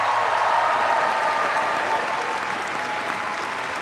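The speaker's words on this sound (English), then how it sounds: "I would like all the graduates, and I mean this, only the graduates, to give yourselves a big round of applause" Graduates at a USC Price School commencement ceremony give themselves a big round of applause, a dense, steady wash of clapping from a large crowd that fades slightly toward the end.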